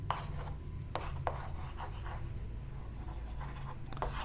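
Scratchy strokes of writing as a physics question about three forces is written out, with small taps and brief rubbing sounds at irregular moments, close and fairly quiet, with no speech.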